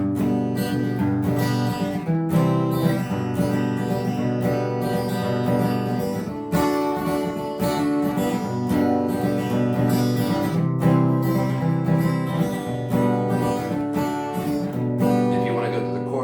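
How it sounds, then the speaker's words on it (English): An electric guitar plays a fast two-notes-per-string run of picked notes, moving in quick pairs across the strings with a steady, flowing rhythm. "you're doing 2 notes per string, you can fly through these like"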